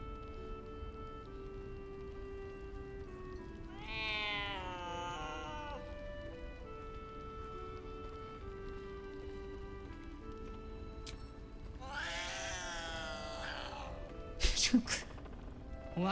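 In the video game Baldur's Gate 3, a cat gives two separate meows several seconds apart, moderately loud over a quiet, steady game ambience, with a brief rustle near the end.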